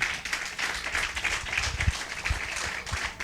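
A church congregation claps for the Lord during a sermon, a soft, fairly distant patter of applause with some irregular louder claps.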